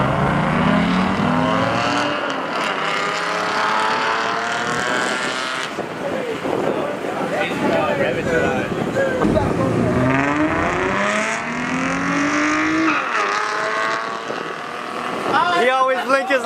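A street race car with a complete straight-pipe exhaust roars loud and close, its engine rising and falling through revs over rumbling road and wind noise, with people talking nearby throughout.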